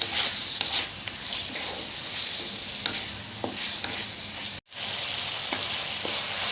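Tomatoes and onions fry with salt in a pan, a steady close sizzle with scattered crackles and a brief dropout near the end, no talking.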